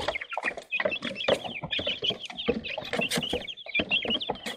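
Chickens in a coop cluck continuously at close range, overlapping calls forming a busy, steady chatter throughout.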